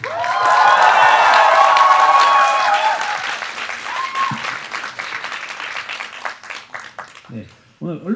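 Loud cinema audience applause with cheering and shouts at a film screening talk, sustained for several seconds before fading into scattered clapping; a voice speaks briefly near the end.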